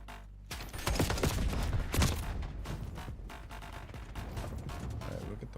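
Sustained in-game gunfire from Call of Duty, dense overlapping shots and bursts rattling continuously at steady loudness with no talk.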